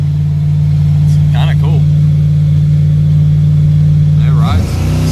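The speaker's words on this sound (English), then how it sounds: "The car actually drives pretty good, surprisingly, and it's actually got a little bit of power." A Ford Fairmont car driving, its engine a steady low drone from inside the cabin, with a person talking over it.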